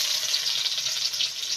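Panch phoron spices tempering in hot mustard-style cooking oil for a rohu fish and ridge gourd curry, a steady close hiss and crackle of frying with no talk.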